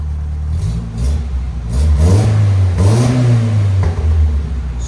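A 1989 Geo Tracker 1.6L with a manual gearbox revs up through a resonator muffler, a deep throaty exhaust rising and falling in pitch, moderately loud and close, with no talking.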